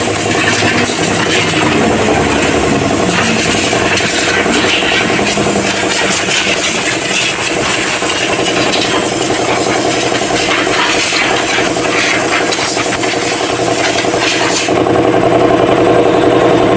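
A Toyota Vios engine idles steadily at a service station during preventive maintenance. It makes a continuous close mechanical hum and rattle for about fifteen seconds, and the sound changes abruptly near the end.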